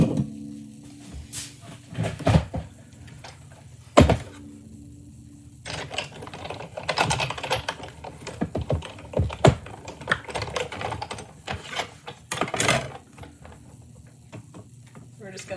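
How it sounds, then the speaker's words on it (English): Die cut machine trimming a card panel with an A2 layered panel die, giving a run of clicking, clattering mechanical bursts and handling noises at close range, with occasional quiet talk in between. "I'm going to grab my die cut machine because we're going to trim this down"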